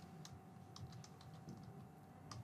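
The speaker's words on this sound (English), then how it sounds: "Let me type it manually." Keys on a computer keyboard clack in a loose, irregular series of soft taps, quiet and close, with a faint steady hum underneath.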